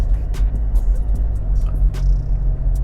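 A Toyota Innova Reborn diesel automatic rumbles over a bumpy poured-concrete road, heard from inside as a steady low drone broken by repeated thumps and knocks from the uneven surface.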